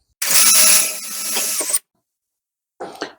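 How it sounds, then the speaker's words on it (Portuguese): A power drill bores a small hole through the center of a piece of wood for a threaded rod on a homemade clamp: a loud, steady whine for about a second and a half, then silence and a brief second burst. "mais ou menos no centro da madeira para eu poder fazer o furinho aqui"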